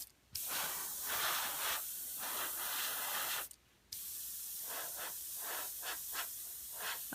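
An airbrush mists a light dusting coat of flesh-tone paint onto a model horse's hoof wall. It makes a steady, close, soft hiss in two long bursts separated by a brief pause.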